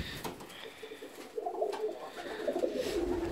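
Fancy ornamental pigeons coo softly in a loft, a low rolling coo rising midway and continuing, with faint background rustle and no talk.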